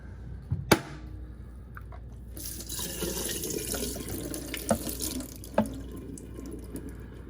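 Water runs steadily from a sink faucet on a robot mop's cleaning station, a continuous close hiss with a few sharp clicks and knocks over it and no talking.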